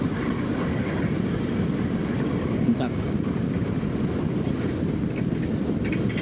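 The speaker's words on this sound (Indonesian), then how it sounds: "Kereta." A train rumbles past close by in Jogja, Indonesia, with steady low-frequency roar throughout, while a person speaks briefly over it.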